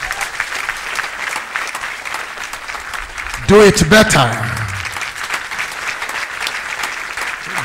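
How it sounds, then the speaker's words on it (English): Clapping from a congregation at a church programme, steady applause running under a voice speaking, with a short burst of louder sound midway. "Give the King of Heaven a clap."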